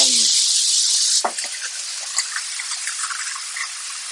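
A little water is poured into a cooking pot of sugar for kamote que; a steady, fairly loud splashing pour starts the stretch, then thins into softer trickles and light clinks close by.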